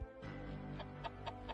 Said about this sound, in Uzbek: Mana nastoyashi xo'rozlar bor.